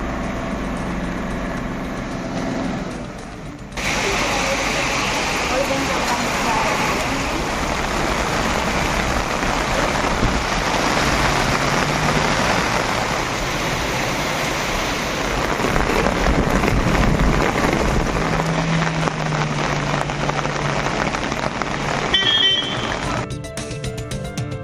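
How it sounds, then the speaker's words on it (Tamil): Heavy monsoon-style rain pours steadily across Tamil Nadu, a dense, loud, continuous roar of drops on surfaces, with a faint low engine hum beneath and no voices. "பல்வேறு பகுதிகளில் கனமழை பெய்தது"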